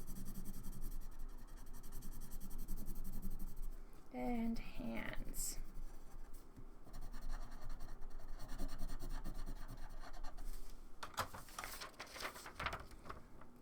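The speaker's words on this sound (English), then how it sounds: "I need some skin color here, and I'm just going to color in my face really quick here." Crayon or marker scratching and rubbing across paper while filling in skin tone on a drawn character's face and hands, a steady close scribbling texture running under intermittent talk.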